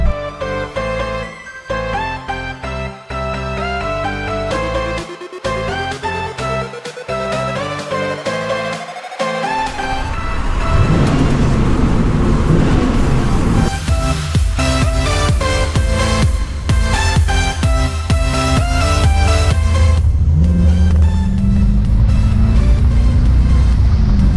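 A C4 Corvette accelerates up to speed, heard from inside as the engine note climbs and rises in pitch, growing louder and rougher partway through amid steady road noise.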